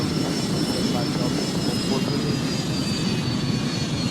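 Airplane engine noise from a flight simulator game, a constant loud droning roar with a faint high whine, heard close and unbroken throughout.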